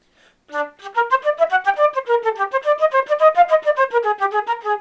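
A wind instrument plays a fast passage with heavy 'taka' double tonguing: a rapid, evenly spaced string of about two dozen sharply attacked, clear pitched notes, close and solo.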